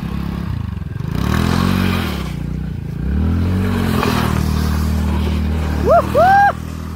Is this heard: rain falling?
no